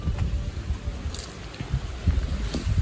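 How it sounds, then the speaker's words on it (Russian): Strong wind buffets the microphone with low, gusty rumbling and steady rushing noise throughout, with no voices. "Слышите, ветер какой? Ветер сильный."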